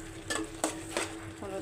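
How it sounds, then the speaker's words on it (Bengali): Ginger paste fries quietly in a pan, with three or four soft scraping stirs over a faint, steady sizzle. "এখন আদাটা ভাজা, আদা আমার ভাজা হয়ে গেছে।"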